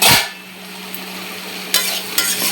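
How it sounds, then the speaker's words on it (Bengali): Stirring lata greens with chepa dried fish in a frying pan, a steady sizzle with scraping strokes of a spatula at the start and two more near the end, close and alone. "ভালো করে এখন নেড়ে নেব।"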